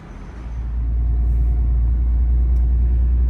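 Road traffic in Bordeaux heard from inside a truck cab on a Saturday morning, a deep continuous rumble of engine and road noise that swells early and then holds steady, with no talking.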